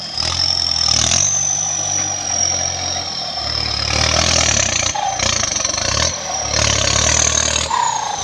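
Kubota M7508 turbo tractor engine running steadily and loud and close while felling trees, its low drone swelling and easing in repeated surges under a high whine, with no talk.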